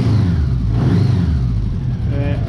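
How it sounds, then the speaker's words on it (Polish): A Honda Goldwing 1000 motorcycle engine runs warm after about ten minutes, a steady low rumble close by throughout. "Motocykl sobie tutaj chodzi"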